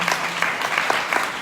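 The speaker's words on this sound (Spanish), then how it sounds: "Este es el aplauso" Applause at a state biology congress after a keynote speaker, a brisk, fairly loud burst of many hands clapping in a hall, steady across the short stretch.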